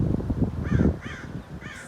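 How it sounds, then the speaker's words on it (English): Several harsh caws from crows, three distinct calls in quick succession, fairly close amid low rustling background noise. "Seeing the crows all the time."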